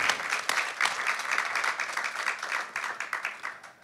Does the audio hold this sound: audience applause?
yes